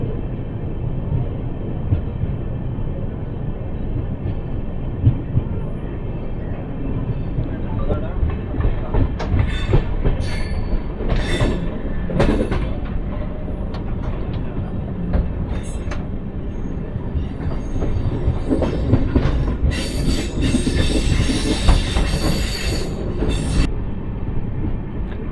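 Palnadu Express 12747, running on LHB coaches for the first time between Guntur and Vikarabad, rumbles steadily with rhythmic wheel clatter and occasional sharper rattles and squeals, loud and close throughout.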